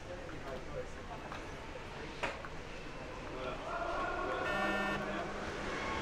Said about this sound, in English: Here's the buzzer, the strike.